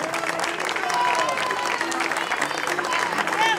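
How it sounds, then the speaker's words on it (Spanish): Spectators at a cycling race trophy ceremony applaud, a steady wash of clapping heard at moderate distance, with crowd voices and tonal sounds running through it. "se merece un aplauso un poquito más fuerte"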